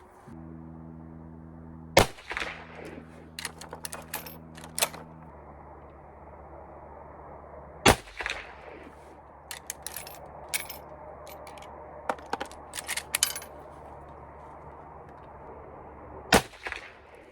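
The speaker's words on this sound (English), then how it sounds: "we're gonna take another 3-shot group and see how we do" Shots from a Winchester Model 94 rifle in 25-35, three sharp cracks spaced several seconds apart at a range, with smaller clicks and handling noises between them and no talk.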